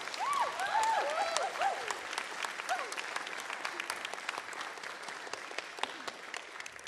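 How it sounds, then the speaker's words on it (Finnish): A concert audience at a 20th anniversary concert breaks into sustained applause, with dense clapping from a crowd and a few cheers and whoops near the start, gradually thinning toward the end. "Hei, aplodit Sannalle!"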